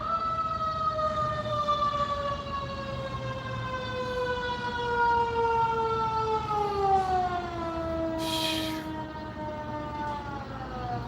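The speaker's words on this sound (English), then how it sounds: "Of course, we have to have our fire truck too." A fire truck siren wails steadily with a slowly falling pitch, loud and sustained throughout on a street during a Tuesday outing.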